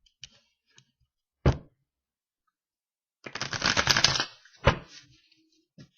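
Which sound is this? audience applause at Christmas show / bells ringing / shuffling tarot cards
shuffling tarot cards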